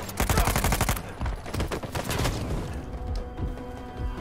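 Dense, rapid gunfire in the video game Uncharted 4, bursts of overlapping shots and heavy thumps, loud and continuous at first, then thinning into scattered shots.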